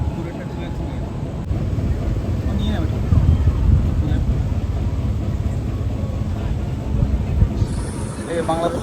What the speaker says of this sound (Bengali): একটা বাংলাদেশের জাহাজ আমাদের এইখান থেকে ক্রস করছে